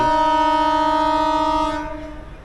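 A train pulls out of Majitha station with one long, loud horn blast that holds steady, then fades and cuts away near the end.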